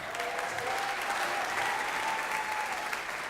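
Sustained applause from an audience at a high school spring choral concert, steady and dense throughout, mid-distance hall sound with no voices over it.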